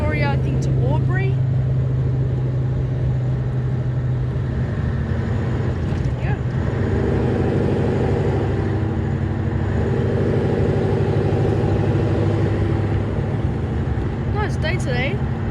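A Scania 142 truck drives on the road with a steady, loud engine drone and road rumble throughout, passing traffic briefly audible, with someone talking over it.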